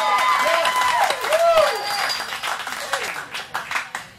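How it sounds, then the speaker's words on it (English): Audience applause and cheering at a birthday roast, a crowd clapping under a voice, tapering into scattered individual claps toward the end. "He comes in with applause."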